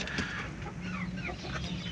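A hen clucks close by just after laying an egg, a short run of throaty clucks and squawks over a constant low background hum.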